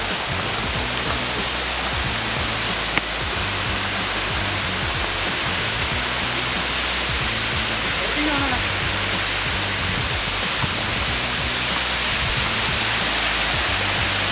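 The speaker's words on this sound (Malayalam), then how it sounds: "വെള്ള വെള്ളച്ചാട്ടത്തിൻ്റെ തൊട്ട് ഫ്രണ്ടിലാണ് നമ്മളിപ്പോൾ നിൽക്കുന്നത്" A waterfall heard from right in front of it: a loud, steady, broadband roar of falling water that runs unbroken throughout, with faint voices surfacing briefly beneath it.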